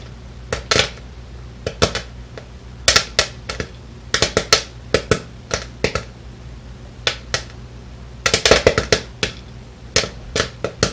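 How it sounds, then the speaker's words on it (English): Old-fashioned popcorn pops in a pot on the stove, with sharp, close, irregular cracks coming in bursts and scattered singles over a faint background hiss. "you know it's done when you start to hear the pops starting to be sparse"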